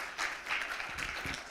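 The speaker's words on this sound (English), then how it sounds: "I think we can do better with the applause." Audience applause follows a medical presentation on glaucoma diagnosis, a brief, fairly faint patter of clapping from a modest crowd with no talk over it.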